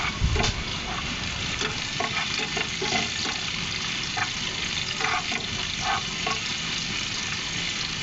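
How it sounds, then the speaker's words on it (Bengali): A teaspoon of garlic paste fries in hot oil in a pan with sliced green chillies, giving a steady close sizzle while a spoon stirs it, scraping and clinking now and then. "আমি সর্বপ্রথম দিয়ে দিলাম 1 চা চামচ রসুন বাটা দিয়ে আমি একটু নেড়ে চেড়ে নিলাম তেলের উপরে।"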